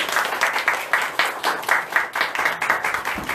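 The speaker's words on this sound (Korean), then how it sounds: "그래서 우리 다시 한번 환영의 박수로 축하해 주시면 감사하겠습니다." Congregation applauding in welcome during a Sunday church service, a moderately loud round of clapping with a steady pulsing rhythm, many hands together and no talking over it.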